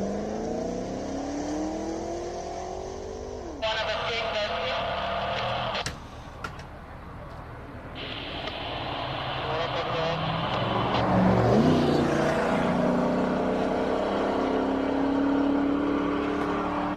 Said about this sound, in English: here is the Corvette. He's going to have his run